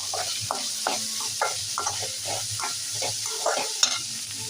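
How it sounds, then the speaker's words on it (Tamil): Mutton blood fry, with salt just added, being stirred in a hot pan: a steady sizzle runs throughout while a spoon scrapes in repeated rhythmic strokes, close and clear, with no talk. "உப்பு சேர்த்து நல்லா கிண்டி விட்டுப்போம்."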